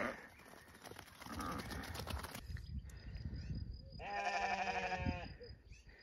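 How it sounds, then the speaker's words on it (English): Sheep bleating loudly nearby on a homestead, several overlapping calls, with one long wavering bleat standing out near the end amid outdoor noise. "Sheep, sheep, sheep!"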